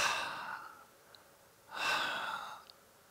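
A voice imitates the wheezing breath of a dying person: two raspy, breathy exhalations with a pause between them, heard alone and fairly quiet.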